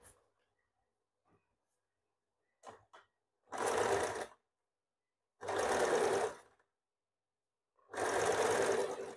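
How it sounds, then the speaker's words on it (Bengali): A sewing machine stitches the side seams of a bra-cut blouse in three loud, close bursts of about a second each, separated by quiet pauses, after a few faint handling clicks. "এবার দুদিকে একইভাবে সেলাই করছি।"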